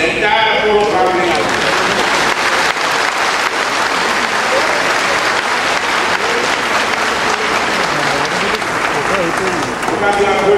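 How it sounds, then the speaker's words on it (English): An audience at an Apollo Go Green Initiative launch event claps loudly and continuously for about ten seconds, a dense and steady wash of applause filling the room. "record your own appreciation by giving a big clap for the entire Apollo family"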